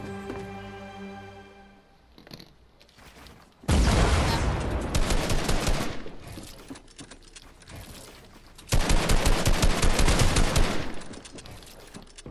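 Bursts of video game gunfire come in two long, loud stretches of rapid shots, separated by a quieter gap with mechanical clicks, ending after a headshot.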